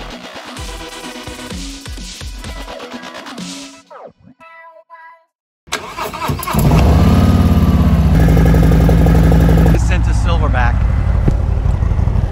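Harley-Davidson Road King motorcycle on an afternoon ride near Bear Mountain: a loud engine rumbles at close range, briefly cuts out, then roars back steady and heavy as it rides.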